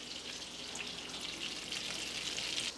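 A côte de boeuf steak sizzling in a hot pan while being basted, a steady close crackle and hiss of fat that runs unbroken throughout, with no talking.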